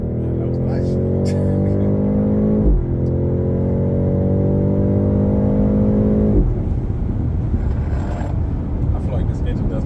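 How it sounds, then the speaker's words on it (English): A 2024 BMW X7 M60i revs up while accelerating on the road, its engine note climbing steadily in pitch twice with a gear-change dip between, loud cabin sound under people talking. "I feel like this engine does make a little bit more noise."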